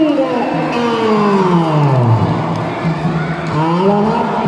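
Crowd cheering and shouting at a Philippines vs Thailand women's volleyball exhibition game, loud and continuous, with a voice chanting over the noise.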